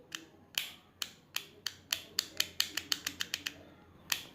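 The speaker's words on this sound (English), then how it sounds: "The next stuff here we have a pivot switch which just click like a normal" Pivot switch on a fidget cube clicking by hand, a series of sharp, close plastic clicks in an uneven rhythm, about fifteen in all, with a pause before a final click.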